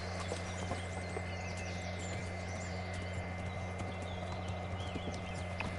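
A horse's hooves beat in a steady, fast clip-clop across a video game's medieval countryside, constant and close over a dense layer of ambient game sound.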